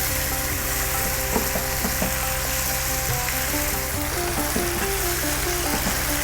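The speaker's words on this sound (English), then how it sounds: "Let's get those onions cooked down a little bit." Onions cooking down over high heat in a pan for a lamb and potato curry, giving a loud, dense, continuous sizzle with occasional utensil clicks, close up and with no speech.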